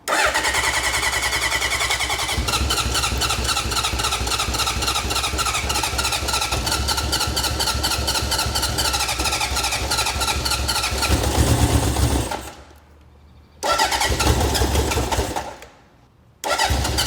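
A restored Honda CB750 motorcycle engine cranks over and fires, settling into a loud, steady running rumble close by, then briefly cuts out twice near the end before catching again.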